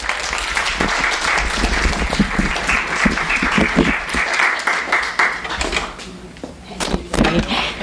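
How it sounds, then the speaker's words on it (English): An audience at a bookshop author event, where novelist Catriona Ward is introduced, gives a warm round of applause: many hands clapping together, close and lively, dipping briefly before swelling again near the end. "Please give her a warm round of applause."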